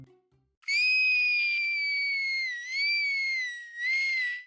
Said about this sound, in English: Little Red Riding Hood screamed her little head off